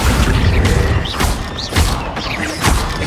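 The Accio summoning spell from the video game Hogwarts Legacy fires as three or four loud booming whooshes spaced about a second apart, each a heavy thud with a hiss trailing behind it.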